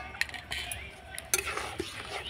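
A utensil stirs pitha dough in a pan, making close scraping and intermittent clinks of metal against the pan over a faint background sizzle.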